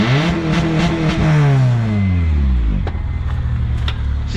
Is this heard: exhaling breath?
no